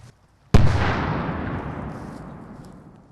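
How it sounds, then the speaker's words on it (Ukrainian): A single loud explosion, set off to extinguish a fire during a rescue service exercise, booms suddenly after a brief quiet, then its rumbling roar slowly decays over a few seconds. "Вибух, до речі, теж один із методів гасіння вогню."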